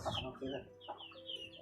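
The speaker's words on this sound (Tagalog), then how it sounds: "Marami ka palang mga alagang manok dito no?" Farm chickens cluck and call in short, quick bursts, faint and close together, over a brief, quiet stretch.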